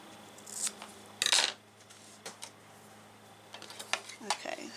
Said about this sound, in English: we can cut off a little bit of the tabs here so we can see our line up stitches